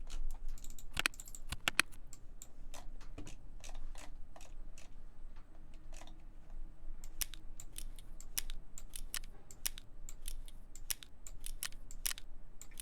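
Someone clicking a pen, sharp dry clicks coming close and clear, sometimes in quick pairs and sometimes spaced apart, over a quiet background.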